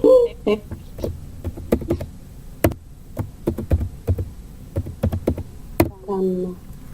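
Keys tapped on a computer keyboard during a yoga lecture, heard as irregular sharp clicks in short bursts, fairly close, with brief speech-like sounds near the end.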